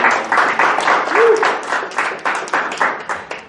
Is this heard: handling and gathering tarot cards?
no